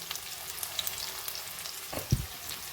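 Golden masala fries in a pan for a mutton dish, a steady crackling sizzle with brief stirring scrapes and a soft thump near the end.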